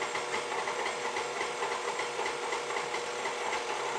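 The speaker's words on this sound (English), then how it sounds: "We'll turn the mixer up just a little bit more." An electric stand mixer whirs steadily while kneading pasta dough made from flour and eggs, a loud, continuous motor drone with a faint rhythmic churn and no talking.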